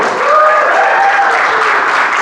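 Loud, dense applause from an audience at the Sheffield Forum talk, continuous clapping heard close and alone for a couple of seconds, with cheering tones mixed in.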